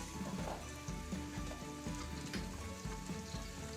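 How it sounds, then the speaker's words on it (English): Onions sizzle and fry in a tablespoon of olive oil in a casserole pot, a steady close crackling hiss with small pops, heard alone without talk. "First off, I'm going to put in onions"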